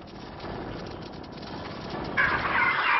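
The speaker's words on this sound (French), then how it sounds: "les dindes que nous avons actuellement dans le poulailler sont destinées à l'Angleterre" Turkeys gobble and call inside a poultry house, a dense flock clamouring continuously, with a louder, brighter burst of gobbling near the end.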